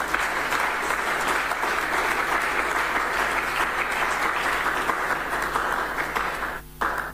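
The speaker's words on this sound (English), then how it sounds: "So a round of applause for Kwabena." Sustained applause from a large crowd, steady and full for several seconds before tapering off at the end.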